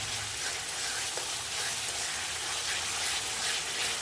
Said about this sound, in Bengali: এই যে মশলা কষানো হয়ে যাচ্ছে